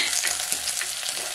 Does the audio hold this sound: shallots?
yes